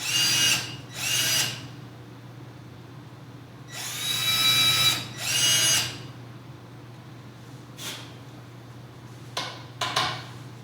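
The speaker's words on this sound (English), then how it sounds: "drill holes into that" A power drill bores holes into wood for a homemade single-string diddley bow neck, whirring in several short close bursts of a second or so, with quiet pauses and small clicks between them.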